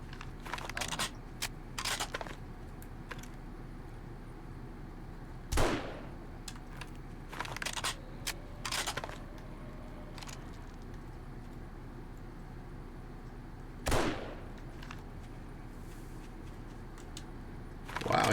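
Gunshots in a zombie survival video game, a few sharp isolated cracks and short bursts spread apart over quiet background ambience, with one louder shot near the end.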